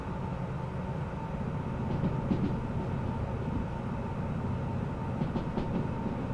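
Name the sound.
heavy freight train rolling in the video game Derail Valley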